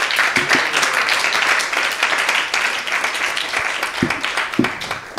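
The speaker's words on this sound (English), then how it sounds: "Give yourselves a big round of applause to Maharaj and the hosts" Audience clapping after a spiritual class with a visiting swami, a crowd of hands rattling continuously at moderate loudness, with a few louder individual claps standing out near the end.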